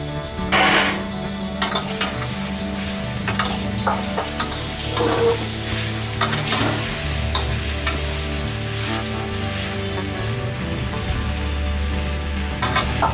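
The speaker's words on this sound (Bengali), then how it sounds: "সবজিটা আমার কষা হয়ে গেছে, ভাজা হয়ে গেছে" Mixed vegetables with fried bitter gourd sizzle in a pan for a Bengali shukto, a loud steady frying hiss broken by repeated stirring scrapes and utensil knocks against the pan, close up with no talking.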